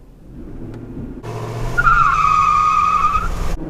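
A Ford F-150 pickup launches hard in a 0-60 run, its engine rising loudly with a brief tire chirp and a sustained high-pitched whine as it pulls away, close and dominant.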